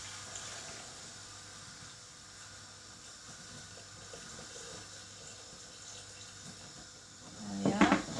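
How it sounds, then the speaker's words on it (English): Water pours into a pot holding vegetable stock for a soup, a soft continuous stream at first that swells into a louder, splashy gush near the end. "I'm going to top it with water."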